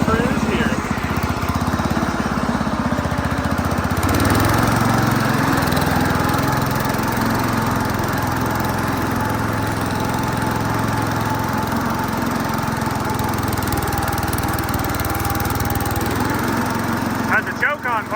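An Oliver diesel tractor engine runs steadily at a constant loud drone while the tractor is driven, a low rumbling chug throughout with faint voices underneath.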